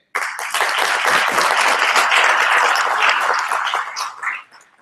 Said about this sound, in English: Could you kindly indicate by applause if you were here yesterday?